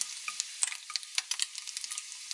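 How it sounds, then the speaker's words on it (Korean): Steady crackling sizzle of bacon frying in a frying pan, with sharp pops and spits scattered throughout, close and fairly quiet. "후라이팬에 베이컨을 구워보고 있어요"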